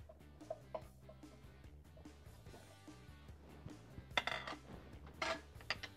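Spoon and cherry tomatoes clink and knock against a salad bowl during stirring, with soft scattered taps building to a few louder clatters near the end.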